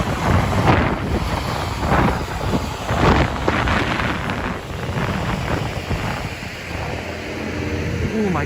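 Cold wind gusting over the microphone on a New York City street, a steady broadband rush with stronger buffets every few seconds, no talk, continuous for the whole stretch.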